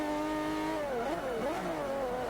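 Engine of a DLC supercar with a huge rear wing in the racing game Forza Motorsport 5, a steady tonal drone rising and dipping through gear changes, heard alone without talk.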